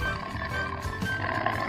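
A cartoon lion roars in a low, sustained rumble, loud and close, with no talk over it.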